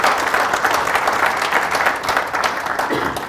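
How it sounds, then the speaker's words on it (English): Steady audience applause at a medical education forum in Toronto, a full, even wash of many hands clapping throughout, close and loud with no speech. "let's give them a round of applause"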